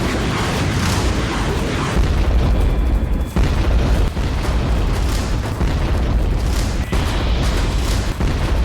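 Repeated booming explosions from Russian tanks striking a Ukrainian UAV post in wartime combat, heavy dull blasts recurring every second or so over a constant rumbling background.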